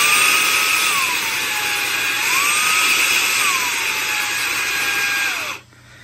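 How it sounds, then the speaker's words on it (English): A HOTO compressed air capsule, a small electric blower, whirs loudly and steadily at close range while its motor pitch shifts repeatedly between two speeds, then cuts off near the end. "I will now press it, so you won't hear my voice, but you should hear the difference in revs."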